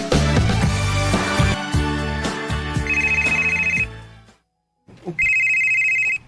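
A telephone rings with a bright, repeating electronic tone over dramatic background music, cutting out briefly and then ringing again close and clear.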